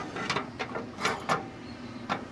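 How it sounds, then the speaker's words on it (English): An RV step is fitted back on and folded up, making a few sharp metallic clicks and clunks spaced unevenly over a couple of seconds, close by with no talk. "So now we'll put the step back on and see if we can fold the steps up"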